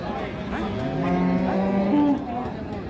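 A Friesian cow moos at a cattle market, a single drawn-out, wavering low call lasting about two seconds, close and clear with only faint background murmur.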